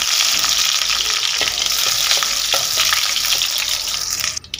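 Curry leaves hit hot coconut oil already popping with mustard seeds and crushed garlic, giving a loud, dense, continuous sizzle with small crackles, close up and with no talking.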